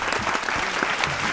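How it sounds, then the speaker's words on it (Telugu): An audience claps loudly and steadily in a dense burst of applause, close and continuous, with no talk over it. "గట్టిగా క్లాప్స్."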